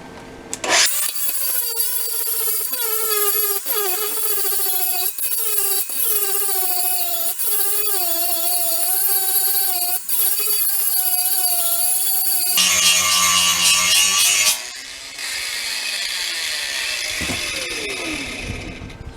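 An angle grinder grinds back a weld bead made with a Boss MST185 welder, a loud continuous whine whose pitch wavers as the disc bites and eases, alone and close, then shifting to a rougher, higher tone near the end.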